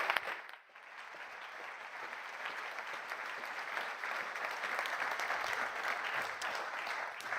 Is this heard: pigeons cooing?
no